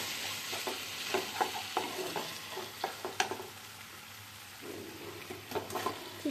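A soy sauce mixture is stirred in a pan for a chicken bowl: repeated quick scraping strokes of a utensil over a faint, light sizzle, fairly quiet and close, with no talking.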